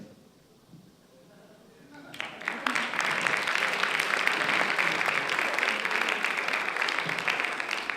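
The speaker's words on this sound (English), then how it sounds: "let's give another round of applause for the domestic category" An audience at a competition finals presentation bursts into applause after a quiet stretch, swelling quickly into sustained, dense clapping from many hands that holds steady and loud to the end.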